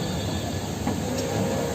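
The Dibrugarh–New Delhi Rajdhani Express, train no. 20503, departs Guwahati station with a steady rumbling roll and faint wheel squeal, continuous and moderately loud, no voices.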